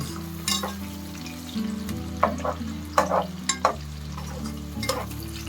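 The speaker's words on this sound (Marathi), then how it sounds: "तळून घेतो आणि काय करायचे हे काढायचे लाल होईपर्यंत काढून घ्यायचं कांदा फ्राय केला" Onions frying in oil for paneer biryani sizzle steadily while a spatula scrapes and clinks against the pan in repeated strokes, with a low hum underneath.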